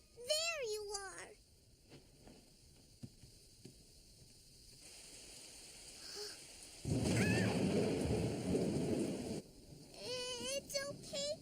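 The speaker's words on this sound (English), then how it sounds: "the flashes and thunder scared him too" A cartoon thunderstorm: a deep, loud rumble of thunder rolls for a few seconds in the middle, with a voice heard before and after it.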